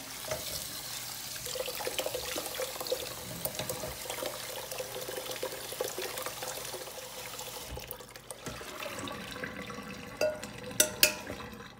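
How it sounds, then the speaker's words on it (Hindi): Cold water poured over strained sabudana in a kitchen, a soft steady wash of running water that fades out near the end, followed by a couple of faint clinks. "इसके ऊपर ठंडा वाटर डालें।"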